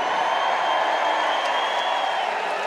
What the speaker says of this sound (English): listen to that crowd. They still love you